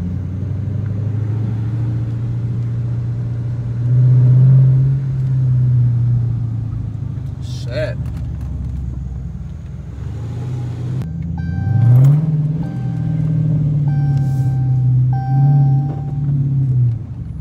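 A Dodge Challenger R/T accelerates through a wealthy residential neighborhood, its deep engine note climbing in two strong pulls separated by a quieter cruising stretch, heard from inside the car.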